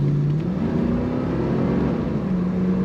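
A 1989 Chevrolet Camaro convertible with an automatic transmission and the top up accelerates. Its engine gives a steady, loud drone whose pitch climbs gradually throughout, with no voices.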